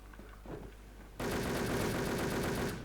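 Rapid automatic gunfire in the online shooter Wolfteam while shooting an enemy, erupting abruptly after quieter game sounds and rattling continuously at steady volume until near the end.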